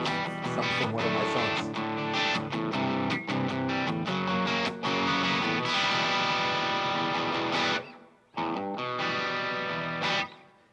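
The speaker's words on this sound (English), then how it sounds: "the distortion definitely has a different flavor" Heavily distorted electric guitar, bridge single-coil pickup through a distortion pedal, plays a continuous riff, loud and sustained, with brief gaps near the end before resuming.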